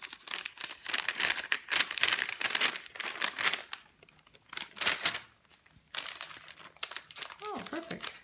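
Paper wrapping crinkles and tears as a wrapped book package is opened, with bursts of crumpling and crunching close by, brief pauses between handfuls, and a person talking intermittently over it.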